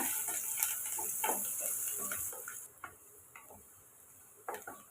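Onions with curry leaves and chili sautéing in a pan for an egg curry, a soft steady sizzle with scattered ticks and stirring scrapes, close and continuous, louder in the first half and quieter afterward.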